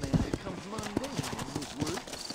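Steady clip-clop of horse hooves in Red Dead Redemption under a voice talking, rhythmic and fairly close, with game-like ambience behind.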